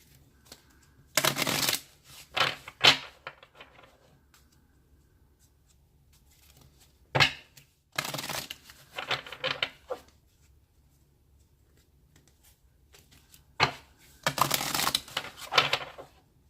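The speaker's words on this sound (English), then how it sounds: "All right, so let me shuffle." Tarot cards being shuffled in several quick riffling bursts separated by pauses, close and crisp, with no talking.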